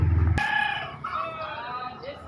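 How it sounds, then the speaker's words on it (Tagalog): A rooster crows once in the morning in a semi-rural area of Caloocan City, Philippines, loud and drawn out, with a rising then falling call that trails off against faint background noise. "Ang daming mga manok."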